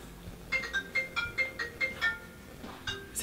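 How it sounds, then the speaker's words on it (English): Outgoing phone call ringback tone pulsing in a steady series of short beeps, about eight rings at a moderate level, fairly close and clear with no talking over it. "Yeah, it's ringing."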